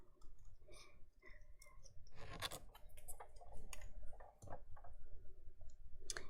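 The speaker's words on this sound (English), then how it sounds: "I'm just going to fussy cut these out." Scissors fussy cutting reindeer antlers out of stamped brown cardstock, heard as a quiet, close sequence of crisp snips and papery clicks at uneven intervals, with no talking.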